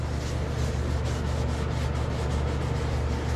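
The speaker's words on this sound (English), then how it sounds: "just enough to keep the sanding block on the metal or on the paint" A sanding block rubs across paint on a metal mini chopper gas tank in steady, rhythmic back-and-forth strokes, close and even, with no talking.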